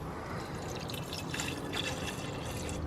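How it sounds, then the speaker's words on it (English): A 50-50 mix of distilled water and G12 or G13 coolant poured into a Mk6 Golf R: a steady, close trickling and splashing of liquid running continuously for a few seconds, with no talking. "now I'll get a little bit of coolant in here"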